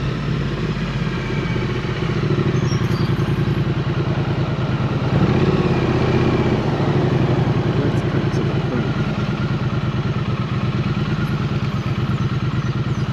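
A Triumph Street Twin motorcycle engine rumbles steadily with a low throbbing drone, easing off as the throttle closes, close and continuous.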